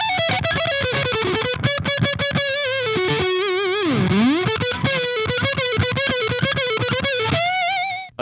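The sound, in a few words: electric guitar played staccato through fuzz, whammy and reverb pedals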